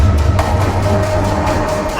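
Dense creepy ambience in an electronic track, with layered textures panned left and right and a different timbre on each side, rumbling low and washing steadily throughout with faint tonal swells, no voices.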